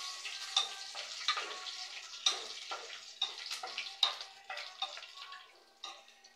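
Garlic and curry leaves crackle and spit in hot oil in a pan, giving a steady run of sharp pops and sputters at close range.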